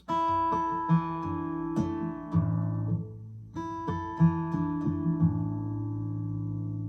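Guitar fitted with a harmonic capo, chords ringing out with bright, bell-like harmonic overtones, strummed several times in a slow, steady pattern, clear and close with no voices.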